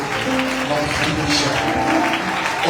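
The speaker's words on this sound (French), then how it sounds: "il mérite nos acclamations, nos ovations, nos prières" A church congregation applauds and cheers, a loud, sustained wash of clapping and crowd voices mixed with tonal sound throughout.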